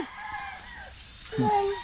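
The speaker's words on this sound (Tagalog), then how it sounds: "Magpakain tayo dun sa ating mga munting manok." Chickens cluck and a rooster crows on a small Philippine farm at feeding time, faint bird calls early and a louder, closer crow-like call near the end over low background noise.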